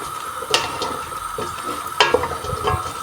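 A spoon stirs beans with spices in a pot on the stove, producing soft scraping and a few sharp clinks against the metal over a low sizzle.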